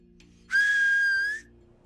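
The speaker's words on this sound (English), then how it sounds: "a whistle from the northeast, indicated that another creature was on its way" A single sustained whistle, steady in pitch, rises out of quiet for just under a second and then stops; it sounds somewhat distant.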